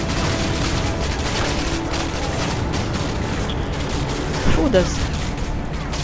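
Gunfire from the video game Call of Duty Modern Warfare 2, a dense, steady crackle of shots and booms over game noise, with a voice speaking briefly near the end.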